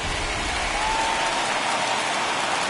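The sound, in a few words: stadium crowd cheering in a baseball video game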